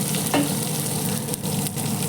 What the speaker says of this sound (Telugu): ఉల్లిపాయ పచ్చిమిరకాయలు వేసుకుంటున్నానండి చూడండి ఇలాగ అన్నీ కొంచెం వేగాలండి